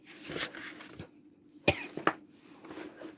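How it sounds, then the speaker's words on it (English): Two short, sharp dry coughs break through quiet background movement, close to the listener. "Oh, that's annoying, that cough."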